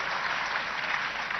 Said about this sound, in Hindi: एक बार फिर तालियां बजा के उनका स्वागत कीजिए